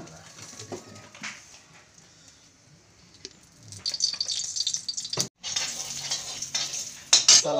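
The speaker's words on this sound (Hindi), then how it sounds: "अब इसको भी थोड़ा फ्राई करेगा" Paneer cubes fry in a pan with a steady sizzle, scraped and stirred by a metal utensil in close, clattering strokes, growing busier and louder in the second half.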